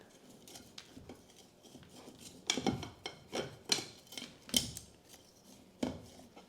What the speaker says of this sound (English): going to take my shears and I'm just going to kind of go around the very edges of this container